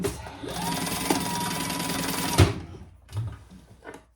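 A sewing machine stitches a reinforcing seam on a fabric pouch, a steady fast whirring run of about two seconds ending abruptly, followed by a few soft handling knocks.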